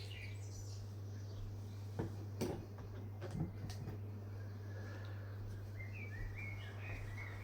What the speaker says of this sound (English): I invite you to listen to the sounds of the wind and the birds.